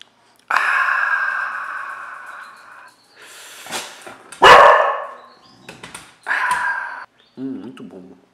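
A dog in a Portuguese-speaking home barks and vocalizes in several loud, drawn-out bursts close to the microphone, with pauses between them and a person talking nearby.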